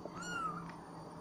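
A kitten gives one drawn-out, high meow, close and clear, over a faint steady background hum.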